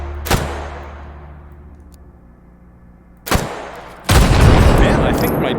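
Gunshots in the VR shooting game H3VR: a sharp loud crack with a decaying tail, a second booming shot a few seconds later, then a sustained roaring blast to the end.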